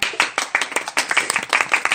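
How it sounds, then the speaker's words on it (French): A television game-show studio audience claps in quick uneven bursts, a brief sharp round of applause rising and falling close by. "Les applaudissements, c'est en montagne russe là"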